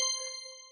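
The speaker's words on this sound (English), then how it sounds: "So I'm going to ring my bell." A single small handheld bell is struck once, ringing with a bright, clear metallic tone that decays smoothly over under a second with no other sound.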